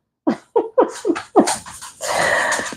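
Dogs letting out a quick run of five short yips and whimpers, close and loud, followed by a burst of breathy panting or huffing.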